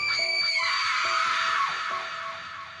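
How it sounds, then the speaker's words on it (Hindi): A girl screams in pain, a long, loud, sustained shriek that rises and slowly fades away, set in a horror story. "वह एक लड़की की दर्द भरी चीख थी"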